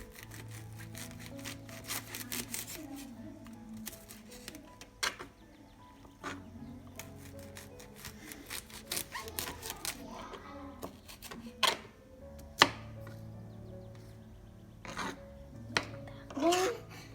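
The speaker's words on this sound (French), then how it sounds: "maintenant on va couper les poireaux" Knife chopping leeks on a cutting board for a vegetable soup, a run of sharp irregular taps and clicks scattered through the kitchen noise, close and moderately loud.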